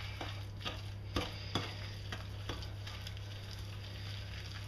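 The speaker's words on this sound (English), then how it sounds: "Let's give that a good mix." Chocolate orange cookie batter mixed by hand in a bowl, soft rhythmic scraping and stirring with a few louder knocks early on over a low steady hum, quiet and close, no speech.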